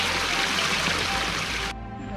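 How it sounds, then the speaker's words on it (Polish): Water flows over a rock sill from a pond in the Kozy quarry in the Beskid Mały, making a steady, full rushing wash that stops abruptly near the end, leaving only faint background noise. "Staw jest tam, a próg skalny, którym płynie woda jest w tym miejscu."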